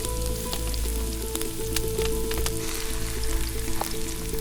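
Tomatoes hit a hot shakshuka pan inside a wood-fired oven, setting off a steady, dense sizzle and crackle with a low roar underneath, close and continuous throughout.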